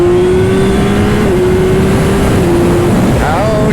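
A 2025 Yamaha YZF-R9 super sport motorcycle engine drones steadily while riding, then the tone drops and blips with a downshift near the end, loud and close under wind noise.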